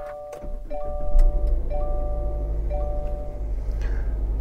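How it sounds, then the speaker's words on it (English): A 2022 Subaru Ascent Onyx Edition started with the push button: a few quick clicks and chimes, then the engine catches and settles into a steady low idle hum under repeated soft chime tones. "Push button start."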